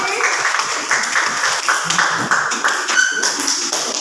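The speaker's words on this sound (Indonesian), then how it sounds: "kita beri tepuk tangan untuk Rizky." A small classroom group of students claps for a classmate during an academic supervision lesson, fairly close, uneven claps with a few sharper individual hand strikes standing out.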